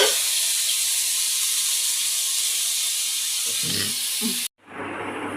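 Spices sizzle steadily as they are fried in a pan, a continuous close hiss that runs unbroken before cutting off abruptly near the end and resuming more softly.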